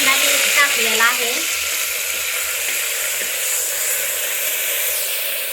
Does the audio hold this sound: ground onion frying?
yes